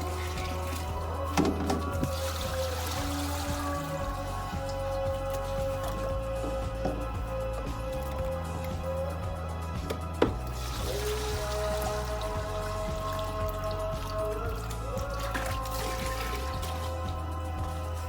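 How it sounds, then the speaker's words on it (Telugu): Water from a fish tub being poured onto plants, a soft steady trickling and splashing pour that continues throughout against low background hum, with a brief knock partway through. "వాటర్ని ప్లాంట్స్ కి పోస్తాం."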